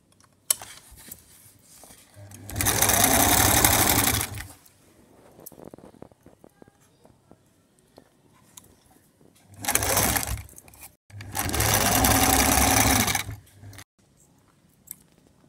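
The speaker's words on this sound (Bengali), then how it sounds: "পরেও কাপড় দিয়ে আমার নেক রাউন্ড সেলাই করব" An electric sewing machine stitches the round neckline of a long kameez in three separate bursts, loud steady whirring runs of a few seconds each, with quiet fabric handling and small clicks between them.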